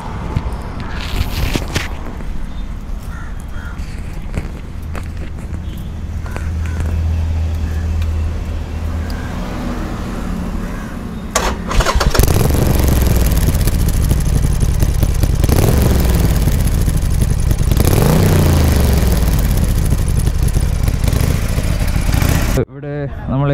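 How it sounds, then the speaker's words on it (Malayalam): A Harley-Davidson 48 with its stock exhaust rumbles near and steady at idle, then revs up loudly in several rising and falling pulls before cutting off abruptly at the end. "സോ എക്സോസ്റ്റ് മാറ്റുന്നതിന് മുമ്പേ സ്റ്റോക്ക് എക്സോസ്റ്റിൻ്റെ സൗണ്ട് എങ്ങനെയാണെന്ന് നമുക്കൊന്ന് കേട്ട് നോക്കാം."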